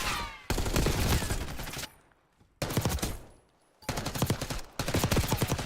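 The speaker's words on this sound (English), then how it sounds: "Millie just throwing bullets everywhere" Automatic gunfire in Call of Duty during an esports match, several loud sustained bursts of rapid shots separated by short quiet gaps.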